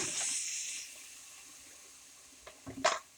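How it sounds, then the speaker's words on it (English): Broth poured into a hot pan after the chicken-fried cubed steak drippings, giving a steady hissing, bubbling sizzle at the start that fades, then a few sharp clinks and splashes near the end. "I just add in my broth."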